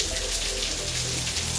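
Heavy rain pours down at a market in Ghana, a dense, continuous hiss of drops hitting surfaces close by, steady and loud with no voices.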